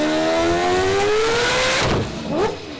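A four-rotor billet engine from a C8 Corvette swap runs on a dyno, loud and close, its pitch climbing steadily through a rev before it drops away and then briefly surges again.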